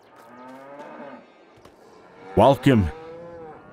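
Cows mooing on a farm in Farming Simulator 22, two loud close moos in quick succession following quieter murmurs, with a voice speaking briefly.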